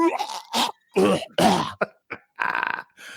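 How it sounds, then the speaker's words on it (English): Several harsh, wet coughs in quick bursts, close and loud, with throat clearing and short pauses between them. "I'm coughing up a lung here"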